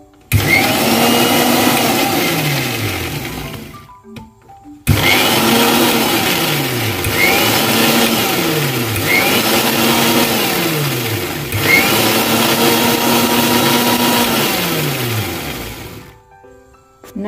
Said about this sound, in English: So the ginger garlic paste, we grind from here.